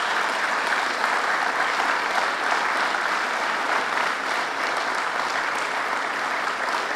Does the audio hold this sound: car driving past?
no